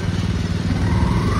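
A motorcycle engine runs close by with a rough, rumbling, continuous drone as the bike crosses difficult ground, with no talk over it.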